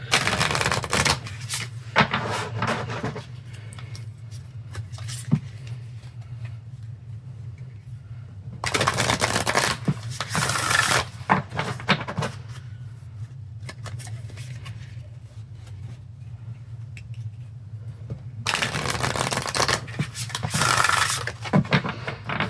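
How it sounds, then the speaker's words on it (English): Bursts of tarot card shuffling come in three separate rounds, crisp riffling rattles close by, with quieter pauses and faint handling noises between them. "I'm going to shuffle 3 times and pull a card for each of these"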